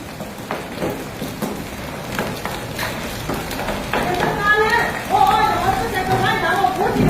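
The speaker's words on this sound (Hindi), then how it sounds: "देखो चालू है अभी तक, सिर्फ ओले ही गिर रहे हैं, बारिश है ही नहीं।" Hailstones falling during a hailstorm in Lunkaransar, Rajasthan, with no rain, heard as scattered irregular pelting and tapping on surfaces while people talk nearby throughout.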